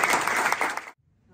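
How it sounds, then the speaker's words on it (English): A short, loud burst of clapping from an audience at a Marine Corps promotion ceremony for a new major, cutting off abruptly after about a second. "give a round of applause for the major."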